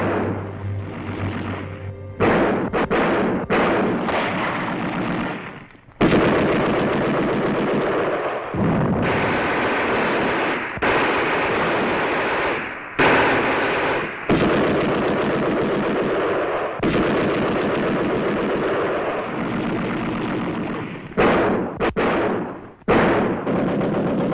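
Wartime battle audio from the Pacific war, with sustained heavy gunfire and artillery from enemy shore batteries. Loud, dense bursts of firing and booms follow one another across the whole stretch, broken by brief gaps.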